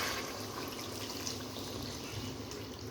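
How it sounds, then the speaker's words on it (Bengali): Water is poured into a pot of fish curry with drumstick, potato and mango during cooking. It makes a steady, close, soft rushing splash for a few seconds without a break. "এবার আমি জল দিয়ে দিব।"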